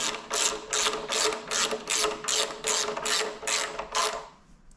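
A hand ratchet tightens the front brake caliper bolts on a Suzuki Marauder 250 motorcycle, giving about ten quick, evenly spaced clicking bursts up close, alone without talk.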